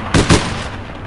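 Gunfire in the online game APB: two loud, rapid shots in quick succession, followed by a short fading tail.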